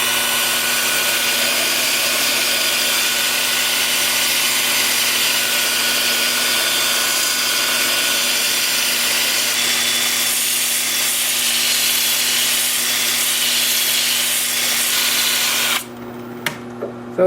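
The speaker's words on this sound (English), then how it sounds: "And then with the lathe spinning in reverse at," A wood lathe spins in reverse while a turned vase is sanded, giving a steady, continuous whir with a constant hum that runs unbroken and fairly loud before cutting off abruptly near the end.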